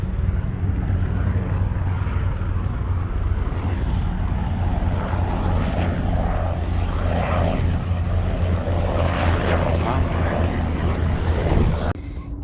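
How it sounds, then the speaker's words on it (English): Two naval helicopters pass overhead near a naval base at Cabrillo National Monument in San Diego, California, making a steady, loud broadband rotor and engine drone that holds at near-constant level throughout. "there goes 2 more of those naval, I guess they're some sort of naval helicopters"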